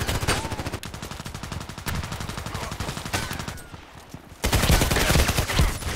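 Rapid automatic gunfire rattles in the online shooter Contract Wars, fired as steady dense bursts close up, with a brief lull before a louder, heavier stretch of shots.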